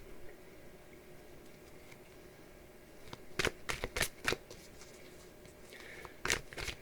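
A deck of soul coaching cards is shuffled close by: quiet room tone at first, then several crisp riffling bursts in quick succession, a pause, and one more brief shuffle.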